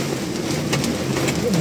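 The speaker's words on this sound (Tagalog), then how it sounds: "grabe yung lakas ng ulan dito ah" Heavy rain and hail pound a car in Balagtas, Bulacan, as a dense, loud, continuous hiss with scattered sharper impacts on the body and glass.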